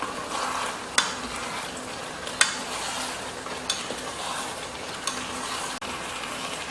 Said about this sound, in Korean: 당근, 그 다음에 대파 빗을 넣어서 한 번 저어주세요.